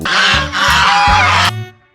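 Several loud, close geese honk in quick succession, harsh nasal calls overlapping for about a second and a half, then fading.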